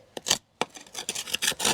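Rough scraping of a trowel clearing dust near a cable bundle on a garden railway, several short rasping strokes close by with brief pauses between them.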